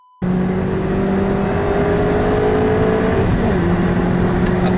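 A Chery Arrizo 8 1.6T or Mitsubishi Lancer 10 2.4 accelerating hard from a standstill, loud sustained engine roar climbing steadily with a brief shift dip, heard from inside the car with no talking.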